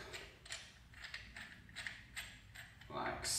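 A brake caliper piston press tool on Miata front brakes is threaded and worked by hand, giving close, quiet repeated ratcheting clicks and metallic creaks in an even rhythm, ending in a louder scrape.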